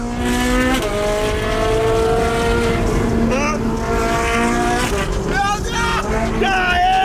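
Ferrari 458 Italia driving close up, its engine holding a loud steady drone that climbs and shifts pitch with rising revs, with a few sharp sweeps late on; a voice talks excitedly over it.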